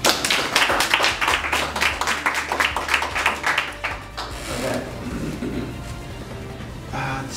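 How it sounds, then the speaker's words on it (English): An audience at a mentalist's motivational stage show gives a round of applause, crisp individual claps for about four seconds, then fading into quieter room noise with faint murmuring. "Folks, give her a round of applause."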